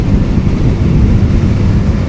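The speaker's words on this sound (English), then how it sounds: "It's very windy" Strong wind buffets the microphone of a rider on a Yamaha YZF R125 125cc motorcycle near its top speed, a loud, steady roaring rush with no break.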